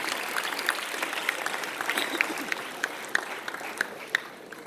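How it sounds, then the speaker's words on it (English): Steady applause from an audience at an awards ceremony fills the space, a dense patter of clapping with scattered louder claps, continuous and moderately distant. "Another round of applause, ladies and gentlemen, as Akhil joins an elite group of Best Actor"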